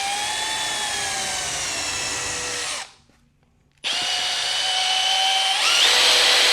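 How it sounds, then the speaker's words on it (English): A power drill with a bit just slightly smaller than the cord's diameter bores a hole through a rubber stopper, whining steadily and loudly up close, cutting out for about a second, then spinning up again. "I've got a drill bit here that is just a hair smaller than the diameter of the cord."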